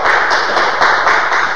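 Dense, loud audience applause for a young guitarist at a film school event, a continuous wash of clapping with slight swells.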